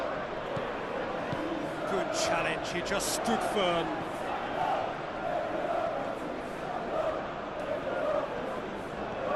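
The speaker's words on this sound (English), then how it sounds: "Crowd appreciates good football all round there." Stadium crowd noise in the PES 2021 football game during a Master League match, a steady murmuring roar with swells of approval beneath a commentator's voice.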